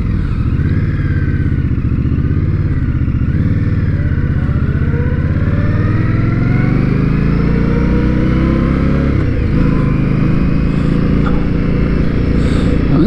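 An Indian Scout motorcycle engine rumbles loud and close, its pitch climbing and falling through a long steady run.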